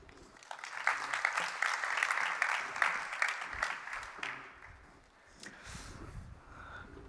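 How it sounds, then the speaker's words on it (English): Audience applause at a conference on AI in sustainability, a steady wash of clapping that swells for several seconds, then fades, with a little room noise and voices near the end. "Please give them a round of applause"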